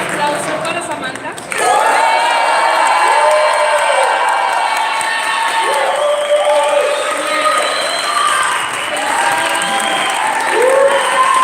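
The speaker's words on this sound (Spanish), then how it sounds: "Súper aplauso para Samantha." An audience at a lecture bursts into loud applause after a brief quiet moment, with cheers, whoops and shouted voices riding over the clapping for Samantha.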